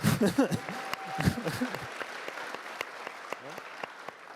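A crowd claps steadily, with voices talking over the start before the applause continues as scattered, rhythmic hand claps.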